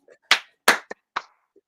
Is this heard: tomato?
no